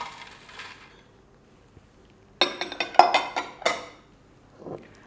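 Almonds tumbling into a food processor bowl fitted with a steel blade, a quick cluster of sharp clinks and rattles after near silence, followed by a softer pour.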